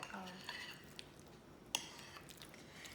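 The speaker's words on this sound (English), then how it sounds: "so you kind of mix it by kind of pressing it down, so the eggs will kind of break and kind of mush together" Egg salad with mayonnaise and mustard is mixed and mashed in a bowl, giving faint scattered clinks and taps of a utensil against the dish, with soft intermittent talk.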